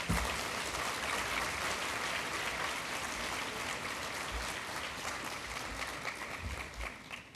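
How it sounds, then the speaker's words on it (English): A large conference audience at ICCS 2025 applauds warmly for overseas guests, a steady, dense wash of clapping that holds at full strength for several seconds and thins slightly toward the end. "I think we should give all our friends from overseas a really warm round of applause."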